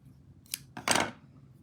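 Paper being snipped with scissors while card-making with a Stampin' Up! paper suite: a short snip followed by a longer crisp cut, close and quiet, with no talking.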